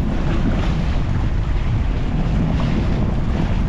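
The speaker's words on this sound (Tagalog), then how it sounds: "Lakas ng ano ito, ratsa. Ratsa ng hangin." Strong northeast amihan wind roaring steadily over an open boat at sea, a loud continuous rush with waves and hull noise and no voices.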